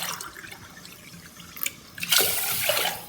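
Water is poured from a cup into a pot of white rice for cooking, starting with soft drips and then a strong, close, splashing stream that runs steadily to the end.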